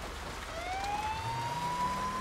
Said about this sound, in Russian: У меня даже сирены есть, могу включить.